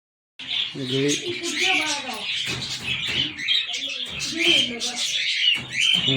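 Parrots at the Gadag zoo chirp and squawk in busy, overlapping bursts at close range, mixed with people talking nearby throughout.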